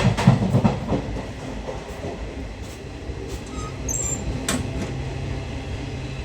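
An empty Indian Railways train rumbles steadily along the rails, with a low continuous roar, occasional clattering bursts and a brief high metallic squeal; no voices.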